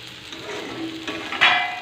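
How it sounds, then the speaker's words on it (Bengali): Onions frying in a pan, a close, steady sizzle with a brief louder crackle near the end, heard alone for a couple of seconds. "পেঁয়াজ দিয়ে নেড়ে চেড়ে নিয়ে এটাকে আবার কিছুক্ষণের জন্য ঢেকে দেবো, এই কারণে যাতে একটু লাল লাল করে ভাজা হয়"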